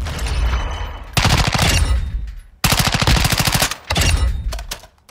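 Rapid automatic hipfire bursts with subsonic blackout rounds in Call of Duty Modern Warfare II, three long, loud strings of close-range shots separated by brief pauses.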